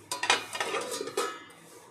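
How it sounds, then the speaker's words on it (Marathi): Metal lid set back onto a cooking pot while preparing a Malvani bangda fish meal, a few quick clinks and scrapes of metal in a short burst, close and fairly quiet. "परत झाकण लावून ठेवत आहे."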